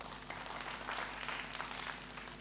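A short burst of applause from a church congregation during a Sunday service, steady clapping with no voices on top.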